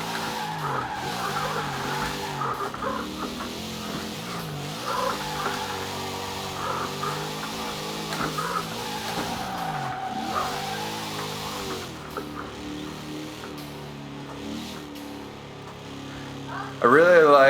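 An early Chrysler muscle car engine in a video game, its exhaust run through resonators, revs and rises with a raspy tone and squealing tires, while someone talks over it throughout.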